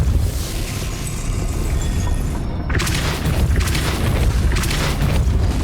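A Depulso spell is cast in Hogwarts Legacy, a fairly loud booming gust that sweeps in halfway through and fills the rest of the stretch with a broad windy rush over constant low rumble.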